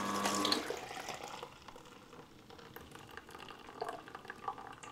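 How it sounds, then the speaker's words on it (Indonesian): Fruit juice is poured out: a brief, fuller gush at the start gives way to a quieter trickle and scattered drips, heard up close with no voices. "Jadi airnya kita tuang lah."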